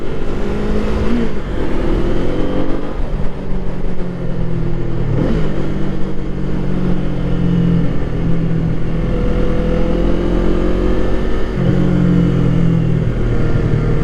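A Kawasaki Eliminator motorcycle engine revs loud and close, its pitch climbing and dropping as the throttle opens and closes over a continuous drone, with no talking.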